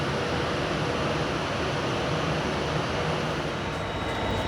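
A steady, heavy rumble of a freight train rolling past Carlisle station, loud and continuous with broad roaring noise and no voices.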